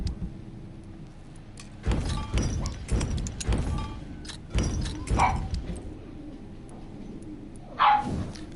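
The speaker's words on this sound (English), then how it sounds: "Oh, my dogs are annoying, aren't they?" Several dogs barking indoors in bursts of sharp, loud barks separated by quieter gaps, with one final close bark near the end.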